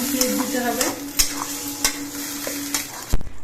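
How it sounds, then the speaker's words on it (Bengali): Kudri paste fries with onions in a pan, a continuous close sizzle broken by repeated sharp scrapes and knocks of a spatula stirring, with a louder clatter at the end. "কুদরি পেস্টটা নেড়ে চেড়ে পেঁয়াজের সঙ্গে বেশ ভালো মতো মিশিয়ে দিয়েছি"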